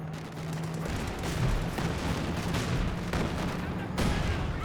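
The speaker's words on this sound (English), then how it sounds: "detonates that landmine there upon retreat" A landmine detonates in a Company of Heroes 2 battle, heard as dull thuds inside a dense, continuous roar of battlefield gunfire and explosions. The mix stays steady and loud throughout.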